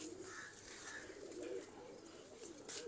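Soft, low pigeon cooing repeats in a steady rhythm close by, with no talk over it. Faint bird chatter sits in the background.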